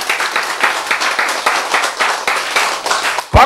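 An audience in a lecture hall claps hands together in a steady, fairly quick rhythm, many palms striking close by, ending with a sudden dull thump.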